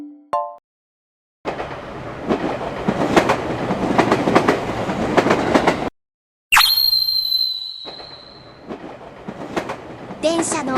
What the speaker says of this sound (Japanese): 電車の音だね。